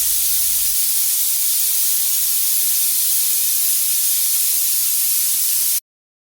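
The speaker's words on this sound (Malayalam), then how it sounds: "ഇനി നമുക്കിത് കുക്കർ അടച്ച് വെച്ചൊന്ന് വേവിക്കണം" A pressure cooker of meat rice vents steam in a loud, steady hiss that runs unbroken for several seconds, then cuts off abruptly.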